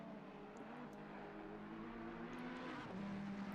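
A Ferrari race car engine in a racing video game at the Nürburgring, a steady, faint high-pitched drone that shifts gear near the end and continues alone without talk.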